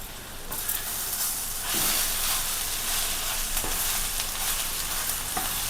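Egg thoran with plenty of coriander leaves and small shallots being stirred in a hot frying pan: a steady, close sizzle with soft scraping stir strokes throughout, no voices.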